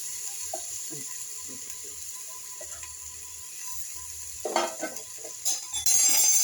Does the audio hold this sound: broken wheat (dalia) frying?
yes